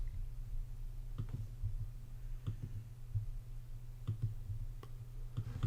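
Sparse mouse clicks while loading bias frames into astrophotography stacking software, single and doubled taps spaced irregularly over a steady low hum.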